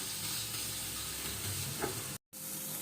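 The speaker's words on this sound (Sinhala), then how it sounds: "දැන් හොඳට කලවම් කරන්නයි තියෙන්නේ." A carrot and chilli mixture being stirred in a hot pan, steady sizzling with a faint scrape of stirring, cut by a brief silent gap near the end.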